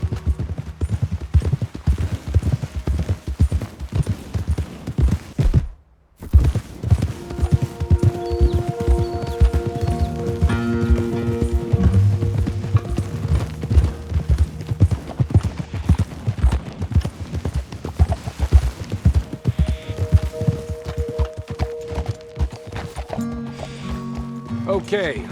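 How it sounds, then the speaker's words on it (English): Horses walking and being dismounted in Red Dead Redemption, hooves clip-clopping steadily and close with tack rustle, a short gap, then more hoof steps while voices talk over them. "Okay, let's dismount here. Best leave the horses back a bit."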